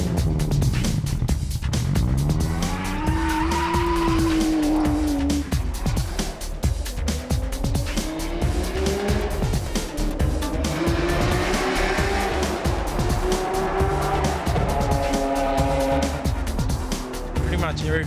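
A Nissan R32 GTR race car with a fully built RB26 engine making about 700 horsepower at the wheels revs hard while its tires squeal, with people talking over the engine throughout.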